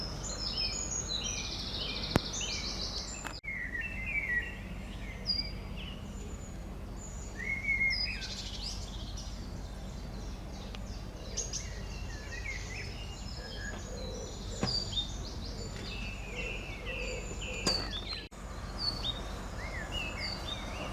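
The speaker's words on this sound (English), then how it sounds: "Listen to those birds." Birds sing and chirp in scattered bursts over a quiet outdoor background, several calls overlapping at moderate distance.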